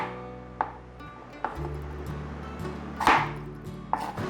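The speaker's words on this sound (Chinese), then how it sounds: "把小黄瓜切一半，换个方向再切一半" A knife chops cucumber into dice on a cutting board, giving a handful of separate thuds spaced irregularly over a faint steady background.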